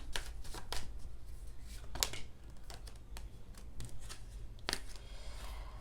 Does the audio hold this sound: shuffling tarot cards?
yes